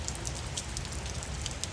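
Rain tapering off after a heavy downpour, a steady, close patter of drops on surfaces with a low, continuous rumble beneath.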